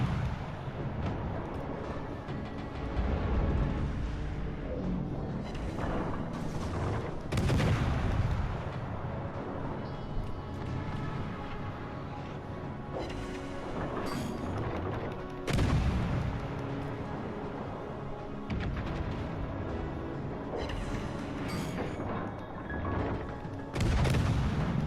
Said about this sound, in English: Stations, concentrate fire on the target.